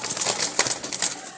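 Red-eyed Jalali pigeons in a breeding loft give soft coos over rustling and brief wing flaps, steady and close by, with no talk.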